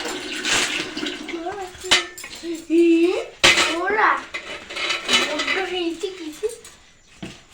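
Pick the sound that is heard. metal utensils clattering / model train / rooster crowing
metal utensils clattering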